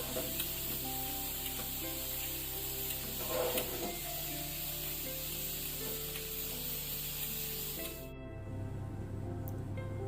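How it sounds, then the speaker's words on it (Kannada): Cashews frying in hot ghee give a steady, soft bubbling sizzle under a low background hum, fairly faint and continuous until it cuts off near the end. "ತುಪ್ಪ ಬಿಸಿಯಾದ ನಂತರ ಗೋಡಂಬಿ ಹುರ್ಕೊಳ್ಳುವ"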